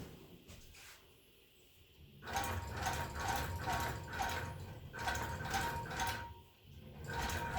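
Longarm quilting machine running steadily as it sews long basting stitches through a quilt, a mechanical whirring and ticking that starts quieter and then grows louder in repeated bursts with short pauses, no talking.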